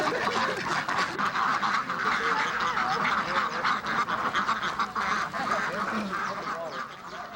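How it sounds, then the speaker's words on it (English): Ducks quacking loudly at a university research farm, a dense, continuous chorus of overlapping quacks and honks from a large flock close by, with no pauses across the whole stretch. "But the loudest animals are the ducks."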